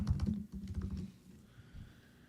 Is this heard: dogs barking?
no